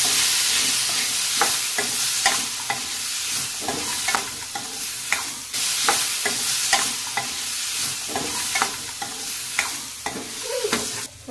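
Curry leaves, coriander leaves and grated coconut fry in a pan for red chutney, a steady sizzle broken by repeated sharp scraping stirs at an uneven rhythm, close and clear with no talking.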